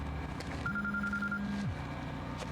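A phone rings in the video game Quantum Break, a single electronic ring tone lasting about a second over a steady background hum, with no voices.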